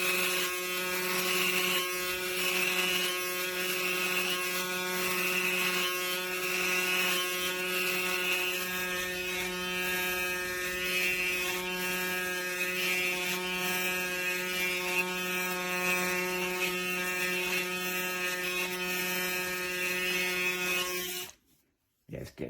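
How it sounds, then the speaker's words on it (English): A Braun Series 8 8517s electric shaver runs continuously on a coarse beard, a steady close buzzing hum with shifting cutting texture as it passes over stubble, then stops abruptly near the end. "start shaving with it to see how it performs. I've got quite a coarse beard"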